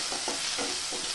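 Garlic and ginger are stirred in hot oil with cumin seeds in a pan, a steady sizzle with soft scraping strokes of a spoon in a brief burst.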